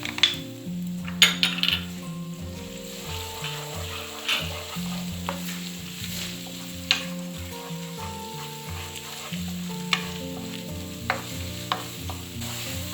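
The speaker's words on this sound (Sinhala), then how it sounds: "ඉඟුරු සුදුලුණු ටික පොඩ්ඩක් ෆ්‍රයි වෙගෙන යනකොට" Garlic and ginger fry in hot oil for Sri Lankan bacon and egg fried rice, with a continuous sizzle. A utensil stirs the pan, making repeated light clinks and scrapes against the metal, and no one speaks.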